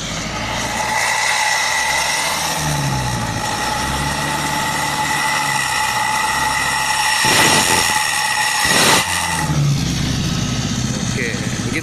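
An Isuzu Panther diesel car engine with an aftermarket exhaust idles and then revs hard a couple of times through a loud, throaty exhaust, the roar swelling and dropping back to a rumble.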